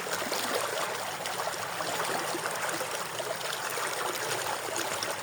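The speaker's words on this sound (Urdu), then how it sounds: "یہ پانی کی آواز ہی انسان کے لیے کافی ہوتی ہے" A mountain stream in a quiet village, its cold water rushing and trickling steadily with a dense, continuous hiss. The flow stays close and even throughout, with no voices over it.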